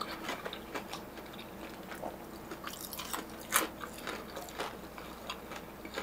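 Soy garlic fried food is bitten and chewed in a series of quiet, sharp crunches spread over several seconds against a faint background, with no speech.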